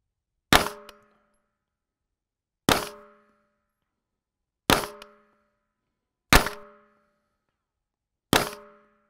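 Five single shots from an Angstadt Arms UDP-9 9mm pistol fitted with a red dot sight, each one a sharp loud crack with a short ringing decay, spaced about two seconds apart with silence between them.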